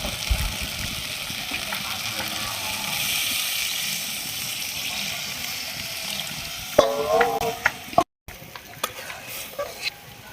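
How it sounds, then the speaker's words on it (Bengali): Water poured into a pan of spiced potato curry, a steady close hiss and slosh with some stirring clatter, then a few sharper metallic knocks of the pan and spoon. "এবার আমি জল দিয়ে দিচ্ছি।"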